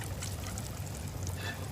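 Water poured from a container onto plants in planter boxes, a short steady splashing pour heard close and fairly quiet, with no talk.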